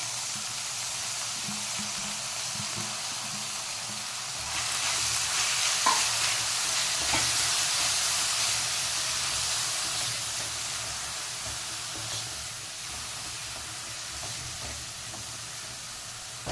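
Capsicum and carrot sizzling and frying in a pan, a steady hiss that swells louder after the vegetables go in, with occasional stirring scrapes and no talk.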